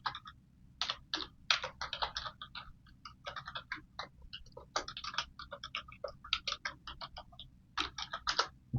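Keyboard typing a percentage range into a Google spreadsheet for portfolio rebalancing, crisp irregular key clicks in quick bursts with short pauses, close and fairly quiet, with no voices.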